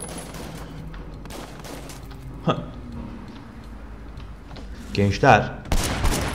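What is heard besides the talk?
gunfire in the video game Sleeping Dogs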